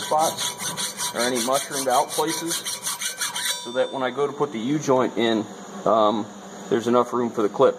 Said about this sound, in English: probably the most important thing I'm going to do with a file is before I put the U-joints in